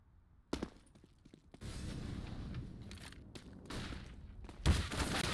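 Counter-Strike: Global Offensive gunfire during a competitive esports match: sharp shots and bursts ring out in close succession, with a heavy boom near the end and a steady rumble of game sound between them.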